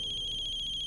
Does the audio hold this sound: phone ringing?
yes